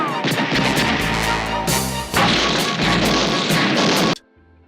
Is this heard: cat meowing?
no